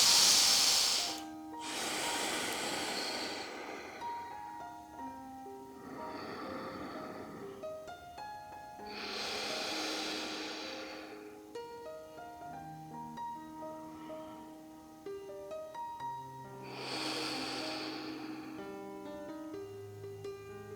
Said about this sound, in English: Take a few breaths here.